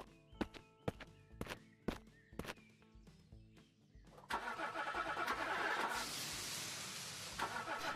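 A car engine starts after several sharp clicks and knocks, then catches into a loud, steady running roar that holds to the end.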